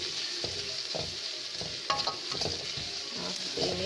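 Green and red large chillies and bird's eye chillies are stirred in a frying pan over a low, steady sizzle. Soft scraping strokes from the stirring come at a regular pace, about one every half second.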